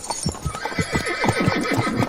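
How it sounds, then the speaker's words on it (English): A horse whinnies while its hooves clip-clop in a steady, close rhythm, the neighing rising over repeated hoofbeats through the whole stretch. "I'm riding a horse"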